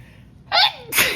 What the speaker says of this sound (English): Sorry, I'm always sneezing during these videos.